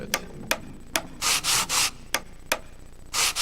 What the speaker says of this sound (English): I don't know why there's a huge scraping sound, but yeah, you know. Sounds like I'm sanding the wood